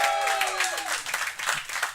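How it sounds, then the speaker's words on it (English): Applause and cheering from a comedy-show crowd greet a comedian taking the stage, mixed with a descending musical sting and some voices, the clapping loud and uneven before it thins out. "Y'all start clapping for Jerry De La Garza."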